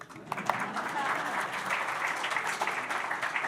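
Audience applause during a talk about Americana music, dense clapping from a crowd at moderate volume with a few sharper claps early on, with some voices mixed in underneath.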